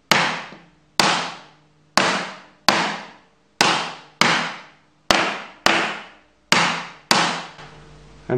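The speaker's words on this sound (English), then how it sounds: "what if I drop something heavy on the table?" Something heavy is dropped repeatedly onto a jointer infeed table in a woodshop, giving nine sharp, loud, evenly spaced impacts about a second apart, each ringing out briefly before the next, with no voices.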